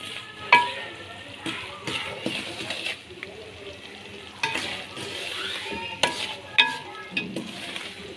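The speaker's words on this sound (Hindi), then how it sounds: "तो कंटिन्यू आपने चमचे को हिलाना है" A spoon scraping and stirring suji halwa as it roasts in a pan, with intermittent clinks and scrapes over a faint sizzle, close and fairly quiet, with a few sharper knocks of metal on the pan.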